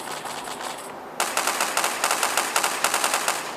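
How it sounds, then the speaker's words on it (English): Dual guns fire in the Counter-Strike video game on the original Xbox: after a brief lull, a rapid, even stream of sharp shots rattles on for a couple of seconds, loud and close. "First pull fires the right gun. Second pull fires the left gun."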